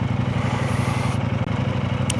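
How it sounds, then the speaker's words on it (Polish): Motorcycle engine idling close by with a steady low, pulsing throb that runs without a break and holds an even loudness throughout. "to szybciutko sobie wskoczę na motor"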